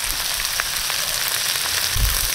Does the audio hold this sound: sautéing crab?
yes